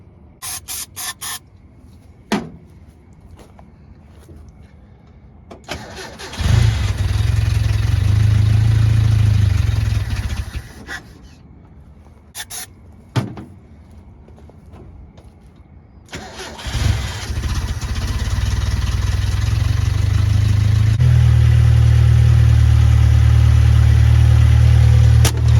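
A Datsun 521 with a freshly fixed carburetor and a recharged weak battery cranks in short bursts, then catches and runs loudly, stops, and later starts again and settles into a steady, loud running note.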